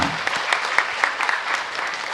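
A church audience claps at a Tamil talk on Saint Don Bosco, a short burst of scattered hand claps at moderate distance.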